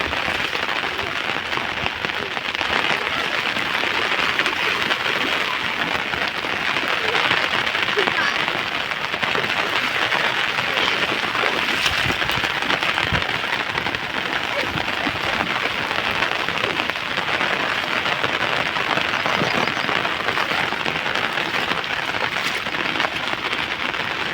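Heavy rain pours steadily over flooded farm fields where people are bathing, a dense continuous hiss of drops on water and ground with no breaks, loud and close throughout.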